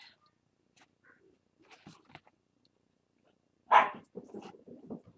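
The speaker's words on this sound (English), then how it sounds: "And a dog snuck down here." A dog in a craft room gives one sharp, close bark, followed by softer whimpering and small noises, after faint scattered sounds in a quiet room.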